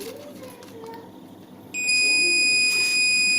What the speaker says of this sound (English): Now you can see the beep that is being heard from the multimeter.